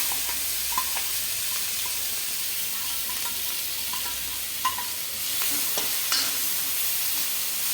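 Cumin frying with onion, ginger and garlic paste in a pan for a malai kofta curry, giving a steady soft sizzle with occasional stirring clinks and scrapes, close and continuous, no talking.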